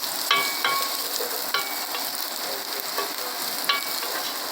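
Garlic frying in a pan while being stirred: a constant close sizzle with repeated scraping clicks of the utensil every second or so, no voices.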